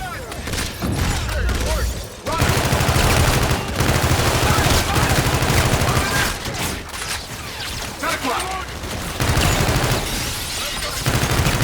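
Dense futuristic gunfire from the Call of Duty Infinite Warfare video game, rapid bursts and sustained volleys crackling almost without pause, loud and close, with voices shouting over the combat.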